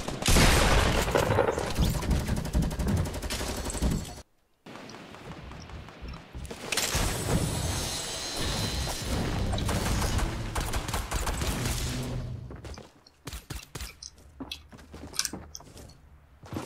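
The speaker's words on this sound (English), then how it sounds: "Sounds like somebody's shooting at me." Fortnite battle-royale gunfire crackling as a sustained, dense fusillade with mechanical clatter, breaking off abruptly, resuming, then scattered single shots and thuds toward the end, moderately distant under game ambience.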